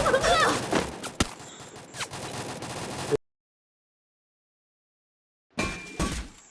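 Automatic MP40 submachine gun fire in a mobile shooter game, loud bursts and single cracks in the opening seconds, then a long silent gap before more shots and clatter return near the end.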